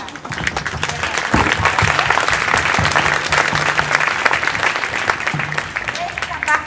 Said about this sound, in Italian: un omaggio speciale con un applauso di apprezzamento per Chiara Sandri che dirige